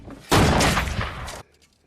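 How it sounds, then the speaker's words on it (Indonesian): Gunfire in a film scene erupts as one loud, dense burst of shots lasting about a second, then cuts off sharply into quiet with a faint trailing rumble. "Dengan cepat Mick langsung mengeluarkan senjatanya dan langsung membunuh Katarina."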